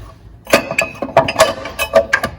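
Hand ratchet tightening lower control arm bolts during a Ford Mustang SN95 Coyote engine swap, a close series of sharp metallic clicks in uneven bursts with no talk.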